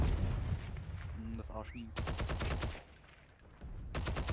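Rapid bursts of automatic gunfire and single shots crack back and forth in a Heroes & Generals firefight, loud and close, while a player speaks briefly between volleys.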